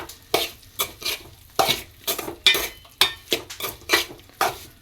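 Leftover cooked rice is stirred with tempering in a metal pot, giving a rhythmic series of about a dozen close scraping, clinking spoon strokes with no talking.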